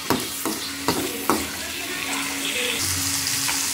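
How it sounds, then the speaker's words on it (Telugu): Green chillies frying in hot oil: a few sharp spitting bursts at the start as they hit the pan, then a steady loud sizzle with stirring scrapes, no talking. "ఆయిల్ ఎక్కిన తర్వాత పచ్చిమిర్చి వేసుకుందాం. ఇది ఫ్రై చేసుకుందాం."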